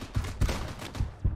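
Four gunshots sound from a FRAG: Pro Shooter match, fired in a steady rhythm a quarter second apart, each a short close thump with a fading tail, and no talking over them.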